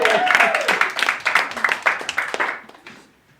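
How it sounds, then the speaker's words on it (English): Audience applause at a live evening show, a burst of clapping from the crowd that tapers off to quiet after about two and a half seconds, with a voice heard briefly at the start. "I think I deserve a round of applause."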